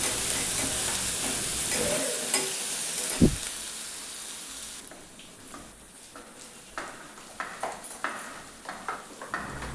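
Onion sautéing in a pan for a fenugreek seed dish, a close sizzle that fades to quieter frying, broken by sharp stirring clinks and scrapes toward the end.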